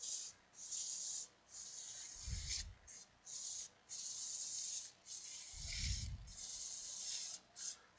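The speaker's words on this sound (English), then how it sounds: "When it comes to making beads, sandpaper is your friend" Sandpaper held against wooden beads spinning on a woodturning lathe gives a faint, hissy rasp in repeated bursts of about a second, with a low rumble of the lathe swelling twice underneath.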